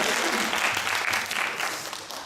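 A church congregation at a Sunday service breaks into steady applause, a dense, even wash of many hands clapping close by, fading slightly toward the end, with faint voices underneath.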